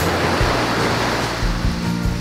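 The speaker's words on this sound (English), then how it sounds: "Kids, can you hear the waves in the background?" Ocean waves at a beach, a loud, continuous wash of surf with low rumbling swells rising and falling, filling the scene without speech.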